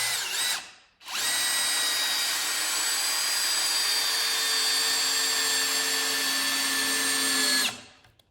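A Bosch GSR 12V-300FC cordless drill/driver on speed 1 drives a 4-inch trim head screw in one steady, loud, whining run of about seven seconds, starting after a brief pause and stopping abruptly, with no talking.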